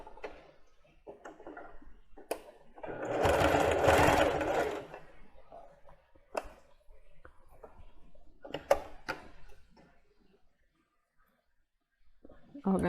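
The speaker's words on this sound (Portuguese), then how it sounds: "E agora eu vou começar a costurar com ponto 4, do jeito que tá." A domestic sewing machine stitches plus-size underwear in one steady whirring run of a few seconds, surrounded by quieter clicks and handling noises while someone speaks.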